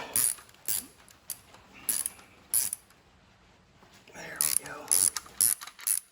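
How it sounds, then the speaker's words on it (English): Ratchet wrench clicking as it backs out 9/16 bolts on an Oliver 550 tractor during PTO and engine clutch disassembly, bursts of rapid ratcheting separated by pauses, close and fairly loud, with a brief spoken remark. "we're going to remove these 3 bolts so we can get this tube out of here"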